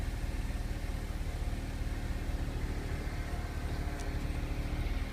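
The 1.8-litre engine of a 2008 Honda Civic runs at a steady idle, a close, even, rhythmic hum and thrum without change in pace.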